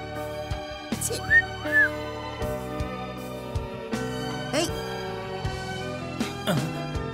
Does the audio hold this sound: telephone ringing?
no